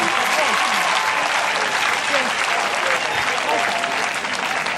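A church congregation applauding during a worship service, dense loud clapping that holds steady throughout, with voices mixed into the crowd noise.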